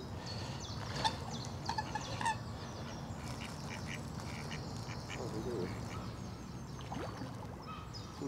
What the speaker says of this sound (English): Quack, quack. So we've got some coots. Those are the mallards,